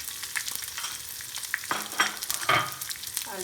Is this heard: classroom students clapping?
no